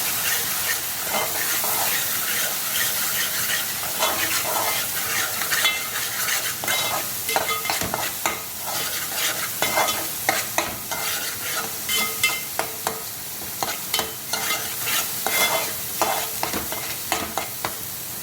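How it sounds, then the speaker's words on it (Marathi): Garam masala and turmeric sautéing in a pan for a pomfret curry, a steady close sizzle with frequent scraping stirs and clinks of the spoon, continuous throughout with no talking. "एक चमचा गरम मसाला घालूया चांगलं परतून घेऊया"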